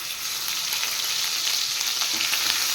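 Ginger and garlic paste frying in leftover oil from capsicum and beans, a steady, close hiss of sizzling with faint stirring scrapes, no voices, continuous throughout.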